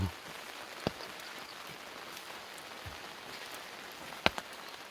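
Rain patters steadily on a cabbage garden in Jeongseon, Gangwon, a dense, even hiss of drops with a couple of sharper nearby taps, heard alone.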